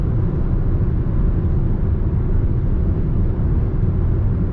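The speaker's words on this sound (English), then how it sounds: "So that will give you an idea of road noise and refinement" A steady, dense low rumble of road and tire noise fills the cabin of a Nissan Sentra SV cruising at just over 70 mph, with an even, unbroken drone and no talking.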